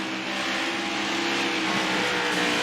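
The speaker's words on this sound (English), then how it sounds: "Charlie Dickey really having to feather that accelerator." A race car engine at Dover drones loudly and continuously as the driver feathers the accelerator, its pitch wavering slightly without sharp revs, heard alone without talk.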